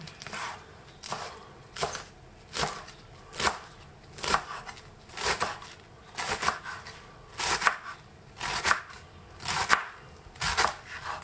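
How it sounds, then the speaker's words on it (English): A knife slices tomato and onions on a cutting board for a roast beef salad, with about a dozen crisp, evenly spaced chops landing close and distinct, with no talking. "let me slice the tomato, onions"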